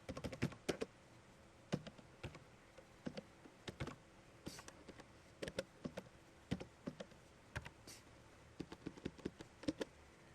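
Computer keyboard typing as property information is entered, a close, fairly quiet run of uneven keystrokes in small clusters with pauses and no talking.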